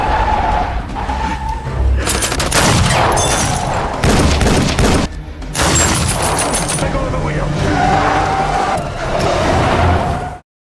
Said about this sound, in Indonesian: Kedua pembunuh bayaran itu membalas dengan senjata mesin yang jauh lebih kuat.